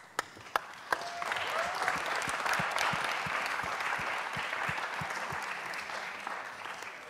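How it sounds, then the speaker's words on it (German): An audience at a media conference bursts into sustained applause after a few sharp opening claps, a dense, even wash of clapping that carries on for several seconds without talk. "Und einen großen Applaus."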